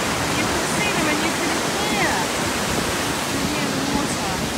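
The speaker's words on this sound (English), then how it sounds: "we're right on top of the falls now" Waterfall on a river walk between Linton and Grassington, heard from right above the falls as a loud, steady broadband roar of rushing water with no breaks, while faint voices may sit underneath.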